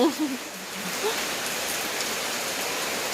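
Rain falls outdoors at an early-morning countryside cookout of grilled chicken and tilapia, a soft continuous hiss of drops with a few faint low murmurs at the very start.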